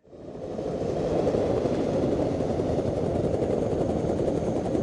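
A film sound effect of a helicopter circling overhead: a steady, loud, broadband rotor roar that swells up in the first second and then holds constant and close, with no voices.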